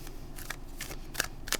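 Quiet, crisp riffling bursts of mini tarot cards being overhand shuffled, a few short flutters separated by brief pauses.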